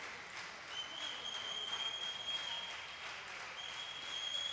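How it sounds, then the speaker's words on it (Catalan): An arena audience at a roller hockey final, the Continental Cup between CE Lleida and Sporting CP, applauds in a steady, moderately distant patter of clapping, with a thin high tone sustained over it. "Aplaudeix el públic."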